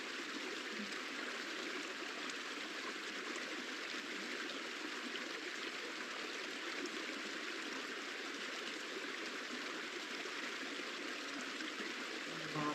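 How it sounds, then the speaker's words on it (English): A steady, continuous babble of a bubbling water stream plays as a background recording, even and unbroken from start to finish with no other sounds. "I just turned on some background of some water noises."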